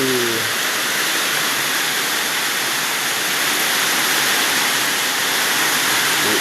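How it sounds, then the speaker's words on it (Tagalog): Heavy rain pours down steadily at a pig farm, a dense, even hiss close by that fills the whole stretch, with a brief low sound at the very start. "ang lakas ng ulan"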